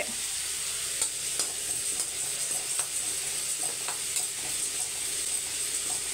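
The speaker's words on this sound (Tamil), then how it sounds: "இதையும் நல்லா வாசம் வர வரைக்கும் வறுத்துக்கலாம்" Chana dal dry-roasts in a pan alongside poppy seeds, a quiet continuous hiss with light, irregular scraping stirs, close and free of speech.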